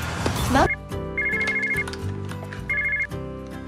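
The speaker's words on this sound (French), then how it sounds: "Allô, Nadia?" A telephone rings with repeated electronic trilling bursts under background music and a voice, close and fairly loud in an indoor scene.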